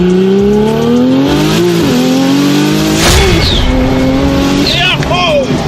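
A Porsche 911 accelerates hard at close range, its engine note climbing through gears with sharp shift breaks and a brief tire squeal, loud and continuous, with people talking over it.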